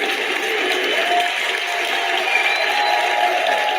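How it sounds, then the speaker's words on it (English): Audience applause at a live event, a steady wash of clapping hands at moderate loudness that holds evenly throughout, with a bit of crowd murmur underneath. "Give them a round of applause also."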